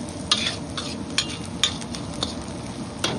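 Garlic and onion sauté in a pan with a constant close sizzle while a spoon stirs, scraping and clinking against the metal every half second or so.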